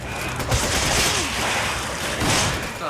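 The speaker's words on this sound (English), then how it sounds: "machine guns don't really do much to these guys" Sustained machine gun fire in Resident Evil 5, a loud, dense roar of rapid shots that fills the whole moment without pause.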